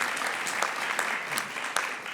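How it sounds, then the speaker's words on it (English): An audience at a morning community conference claps at close range, a full round of applause with a few sharper individual claps standing out, and no talk over it. "Always nice to start a Tuesday morning with a round of applause"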